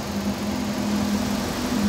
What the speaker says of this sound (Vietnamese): Máy nổ êm, khô ráo sạch sẽ.